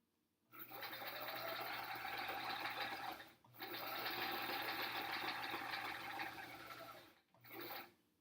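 A sewing machine stitches improv quilt blocks in two long continuous runs of steady, close whirring, each ending in a brief pause, then a short final burst.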